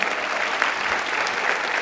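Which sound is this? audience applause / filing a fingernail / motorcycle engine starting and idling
audience applause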